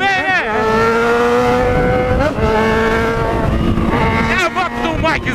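A Yamaha XJ6 motorcycle engine revs and accelerates in traffic, its pitch climbing and dropping through several rising sweeps, loud and close, with a rider's voice talking over it.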